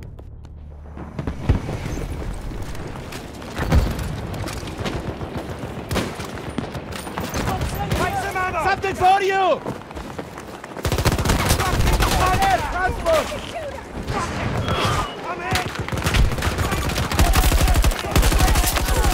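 Dense gunfire in the shooter game Battlefield 2042 on the Africa Harbor Rush map: loud, continuous bursts and rapid automatic volleys with booming shots throughout, while players shout over the fighting.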